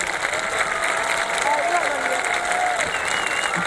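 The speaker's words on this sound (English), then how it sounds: "please give Senator Timken a big Louisville round of applause" Sustained applause from a large crowd at a Louisville Leopards high school sports event, honoring a state senator, steady and dense throughout with some cheering and a voice faintly audible beneath.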